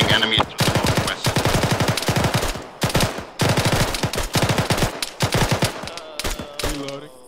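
Rapid automatic gunfire from Arma 3 military simulation combat, dense bursts of loud shots in quick succession with brief pauses, near and sustained throughout.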